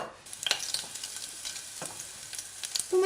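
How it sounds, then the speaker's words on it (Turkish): Chopped garlic sizzles in hot oil in a pan, a soft crackling hiss with occasional stirring scrapes, close up and without talk. "1-2 dakika sarımsakları kavuruyoruz."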